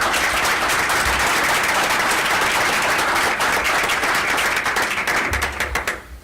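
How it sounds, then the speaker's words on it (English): A crowd at a panel discussion applauds steadily with dense, sustained clapping that holds for several seconds, then begins to thin out toward the end. "I want one more round of applause for you all."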